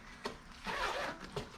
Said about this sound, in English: Right away, you get a nice little bag here that zips up